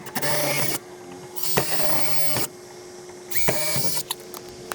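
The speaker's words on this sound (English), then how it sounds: "we're gonna just go ahead and drill this through here" A power drill bores through 2x6 lumber for 3-inch lag bolts in a garage. It runs in three roughly second-long bursts, loud and close, with brief pauses and small clicks between them.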